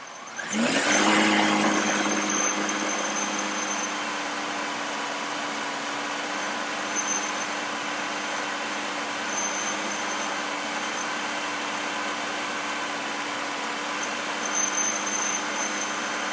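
A car engine revs up during a fuel trim test, rising quickly to a steady, loud drone that holds for many seconds with a faint high whine, close and continuous with no talk.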